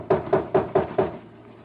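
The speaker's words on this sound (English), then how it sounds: "I'll knock again." Five firm knocks on a door, evenly spaced about a quarter second apart, close and dry as a radio drama sound effect, with a short fading tail after the last rap.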